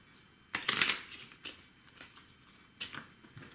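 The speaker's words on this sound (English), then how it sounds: "Oops, I should shuffle that again." Playing cards being shuffled during a tabletop board game session, a quick riffle burst followed by a few shorter card flicks, close and clear with no talking.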